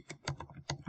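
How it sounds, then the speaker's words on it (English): Computer keyboard keys tapped in a short burst while entering a password, a few crisp clicks close by with no talking. "So now I'm going to type in my password."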